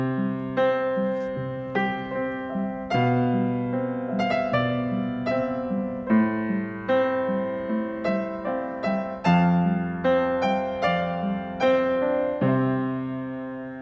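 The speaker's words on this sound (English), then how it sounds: "It's truly an upright piano sound," Versilian free virtual upright piano, not a refined grand, playing a steady flowing passage of chords and melody notes for about fourteen seconds, clear and close with sustained overlapping tones and no voices.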